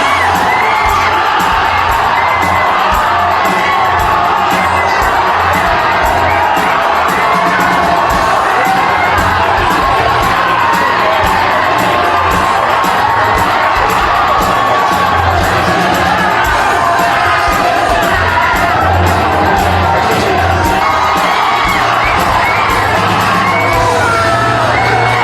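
Cricket fans celebrate a T20 World Cup final win in the streets with a loud, continuous crowd roar of cheering and shouting, scattered sharp bangs of firecrackers mixed in throughout.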